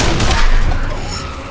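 Gunfire bursts in the video game Wasteland 2, loud and close, with heavy booming shots packed densely at the start and trailing off into a lingering rumble.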